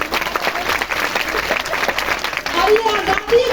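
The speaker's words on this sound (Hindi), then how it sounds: "छोटा ताली होना चाहिए सभी लोग के लिए।" An audience at a Hindi public speech claps steadily throughout, a dense continuous patter with a voice talking over it.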